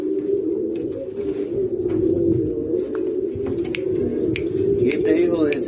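Pigeons kept for breeding, including four-month-old young birds, give a continuous low, throaty cooing up close, with chirps and a voice in the background.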